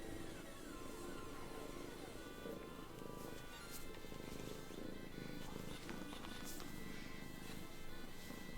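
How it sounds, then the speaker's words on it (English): A cat purrs close up in a steady, continuous rumble that runs unbroken from start to finish. "she's purring"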